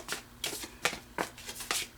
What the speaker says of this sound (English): I just want to get a good shuffle here.